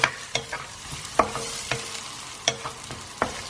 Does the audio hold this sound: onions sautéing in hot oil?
yes